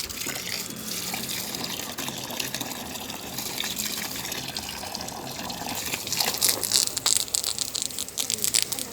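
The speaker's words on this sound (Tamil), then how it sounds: "இப்போ தண்ணி ஊற்றலாம்." Water gushing from a hose pipe onto rooftop garden plants, a steady broadband rush that holds for nine seconds and grows more spattery and uneven toward the end, with no talk.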